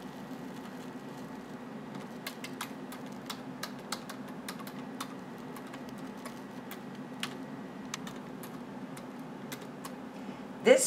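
Keys clatter on a computer keyboard as a formula is entered into a spreadsheet, a steady run of light, close clicks over a quiet room hum, ending with a brief louder bump.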